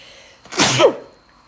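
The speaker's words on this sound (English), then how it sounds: "I think I have to sneeze, pardon me." A single loud, sharp sneeze bursts out close by after a brief quiet intake, then fades back to near silence.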